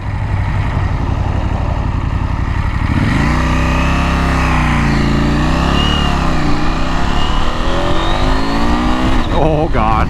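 A 2024 KTM 890 SMT motorcycle accelerates hard in sport mode, its loud close engine note climbing through the gears with rising and falling pitch sweeps over steady wind roar.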